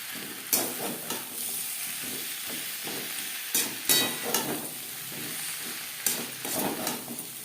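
Tomatoes added to a pan of taro (maan kochu) for a Bengali rohu fish curry, frying with a steady close sizzle and intermittent stirring clatters and scrapes, with no talking.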